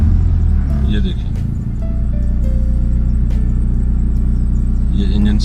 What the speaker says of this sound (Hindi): ये इंजन स्टार्ट हो चुका है।